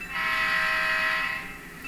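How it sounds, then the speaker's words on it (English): Missouri Pacific GP15 model locomotive sounding its air horn with added echo, a single sustained chord-like blast of nearly two seconds that tails off slightly, alone without talk. "now when we listen to the air horn,"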